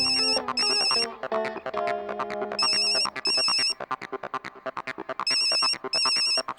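A phone ringtone plays loudly on speakerphone, a repeating electronic melody with bursts of high trilling tones recurring in a steady pattern.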